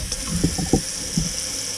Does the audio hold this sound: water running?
yes